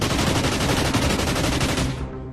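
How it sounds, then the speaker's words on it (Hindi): A medium machine gun fires loudly and rapidly in one continuous burst of closely spaced shots, which stops abruptly just before the end. "यहां से वो मीडियम मशीन गन से ताबड़तोड़ गोलियां चला रहा था।"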